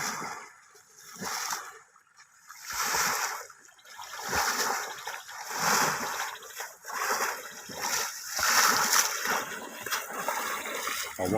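Someone splashes and slaps water by hand or foot to drive fish toward a cast net, producing repeated close splashes and sloshing in irregular bursts with trickling between, a few faint voices in the background.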